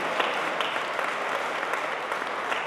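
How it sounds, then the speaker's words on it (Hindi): An audience at a mushaira poetry gathering in London claps loudly and steadily. The dense, sustained applause fills the hall evenly, with no voices over it. "उन दोनों माओं के लिए जोरदार ताली बजनी चाहिए"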